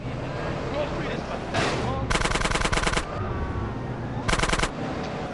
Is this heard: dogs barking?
no